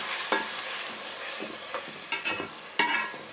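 Tomatoes frying with garlic-ginger paste in a pan, a soft sizzle broken by several sharp scraping strokes of a spoon stirring, close and with no talk.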